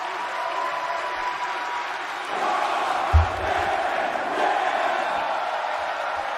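Wrestling crowd at an ECW-themed event chanting together in unison, a dense, sustained roar of many voices with a brief thump partway through.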